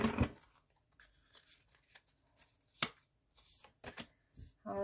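Tarot cards are shuffled by hand at close range, making faint, uneven bursts of papery riffling and slapping with quiet pauses between them.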